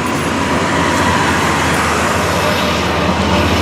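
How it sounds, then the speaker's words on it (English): A loud truck passes on a roadway, filling the clip with a dense, steady rumble and broadband traffic roar that stays close and constant throughout. "loud truck right there."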